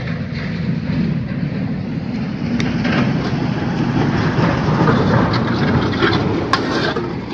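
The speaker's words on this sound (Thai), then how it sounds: "คือรถที่แล่นผ่านถนนนะพี่น้อง" Steady traffic roars past close by, a continuous rumbling wash of road noise with a couple of faint clicks, no talking.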